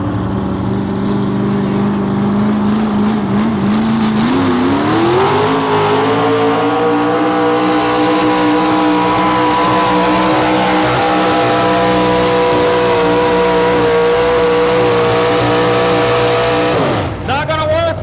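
Drag race cars screaming down the track at a 1987 TNT event in Raleigh, a loud, sustained engine roar rising in pitch as they accelerate, then holding steady before cutting off abruptly near the end.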